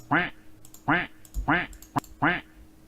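A person imitates a duck, giving four nasal quacks at a brisk, even pace, close and clear, amid a card game commentary with faint background noise.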